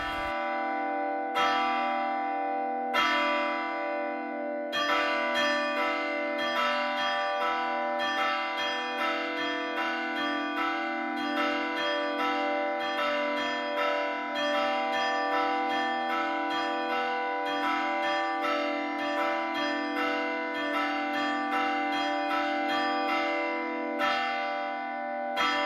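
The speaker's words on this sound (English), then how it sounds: "The bells that we use today were made in Holland and installed in the mission about 15 years ago." Dutch-made mission church bells ringing, a few opening strikes then a sustained peal of overlapping bell tones with long ringing decay, steady and clear at a moderate distance.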